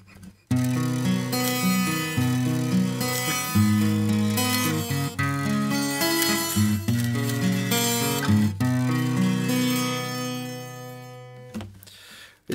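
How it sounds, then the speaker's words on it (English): An acoustic guitar with a chain laid across the strings plays a steady picked pattern, its notes slightly buzzy and metallic, ringing out alone. "if I put the chain here, it sounds like this"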